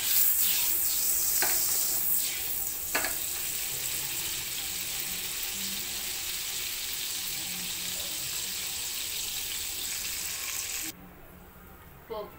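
Tempering spices crackle and sizzle in hot oil in a pan for a tomato dried-fish curry, a steady close frying hiss with some stirring and water sounds, cutting off abruptly near the end.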